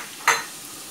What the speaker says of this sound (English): And we are stirring everything.